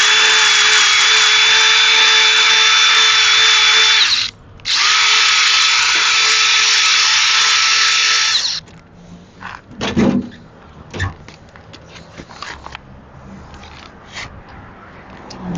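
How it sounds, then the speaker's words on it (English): A power drill spins an automotive disc brake hone inside a bicycle seat tube, two loud steady whirring runs with a brief pause between them, followed by scattered knocks and handling clatter. "I've got one of these, well, it's a disc brake hone for like automobiles"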